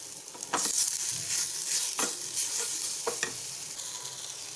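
Spice masala with red chili and turmeric frying in a pan, a close steady sizzle with several sharp scraping stir strokes.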